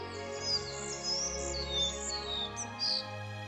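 A collared flycatcher calls in a forest with a few faint, high chirps and short tweets scattered over a low, quiet background hum.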